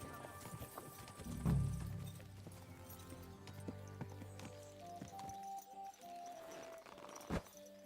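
Horse hooves clip-clop in a brief burst of steps in the video game Kingdom Come: Deliverance 2, followed by quieter scattered clatter and faint background sounds.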